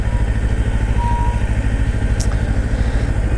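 Kawasaki motorcycle engine droning steadily underway, a loud, low, even pulsing hum with no talk over it.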